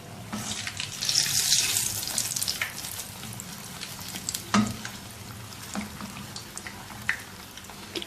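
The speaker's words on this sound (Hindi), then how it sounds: "ये देखिए बबल बनने शुरू हो जाए अगर समोसे डालते हुए, तो मतलब ये कि तेल ठीक गर्म हो चुका है" Samosas fry in hot, bubbling oil with a continuous crackling sizzle and scattered pops, close and fairly loud.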